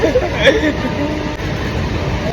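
A train rolls past nearby, a steady broadband rumble of wheels and wagons that holds throughout, with faint crowd babble mixed in.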